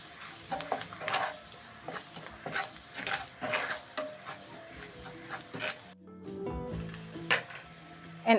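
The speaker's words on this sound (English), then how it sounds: "Crush my seasoning cubes and stir into the onions" A spatula scrapes and stirs crushed beef seasoning cubes, black pepper, paprika and garlic powder into onions sautéing in a pan, giving intermittent scraping strokes over a soft sizzle, with a few clinks near the end.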